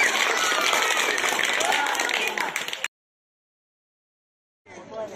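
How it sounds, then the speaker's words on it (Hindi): A school audience at a Children's Day prize-giving in a government middle school applauds with dense, steady clapping for about three seconds, then falls silent before scattered clapping starts again near the end. "जोरदार ताली से स्वागत किया जाए"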